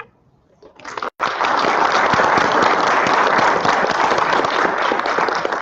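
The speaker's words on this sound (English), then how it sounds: "Let's give another round of applause to all of our speakers." Sustained applause from a large crowd at a veteran recognition event, dense steady clapping that begins abruptly after a brief quiet moment and continues loudly throughout.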